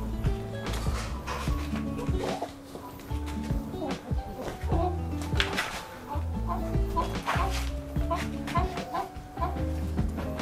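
A ring-necked pheasant clucks and squawks in a busy, noisy scramble as it is caught, with scattered calls and commotion throughout and people's voices mixed in.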